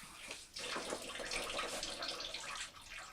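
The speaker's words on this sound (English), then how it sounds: "I'm going to put just a tad of water" A small splash of water, about a quarter cup, poured into pepperoni jalapeno cheese skillet bread dough: a steady close-up gurgling pour lasting a few seconds, with a brief dip near the start.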